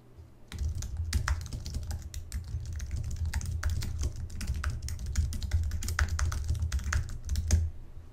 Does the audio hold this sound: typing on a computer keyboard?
yes